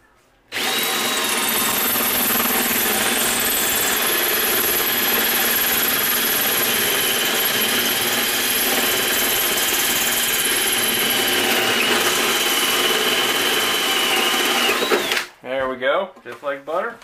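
A loud power drill running a hole saw into an ammo box runs steadily for about fifteen seconds with a high whine and grinding, then stops abruptly as a voice begins.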